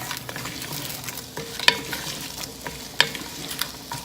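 A spoon stirs a pot of chicken noodle soup with fresh basil leaves and thyme over a low sizzle, with a few sharp clinks against the pot and no talking.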